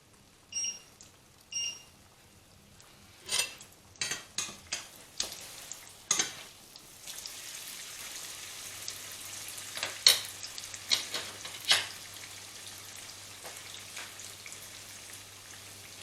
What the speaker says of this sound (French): Là, il est en train de cuire sur l'autre poêle du même côté